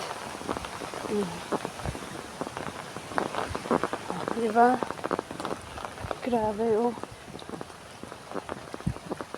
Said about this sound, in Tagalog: Umuulan ulit.